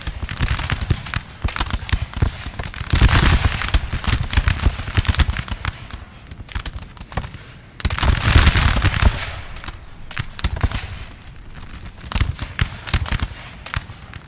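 Massed musket volleys crackle on the Napoleonic battlefield of Castiglione, 1796, in Napoleon Total War, with dense bursts of overlapping shots in waves, loud and sustained, swelling and easing across the scene.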